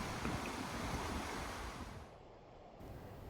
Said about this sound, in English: Hear that? That's the wind.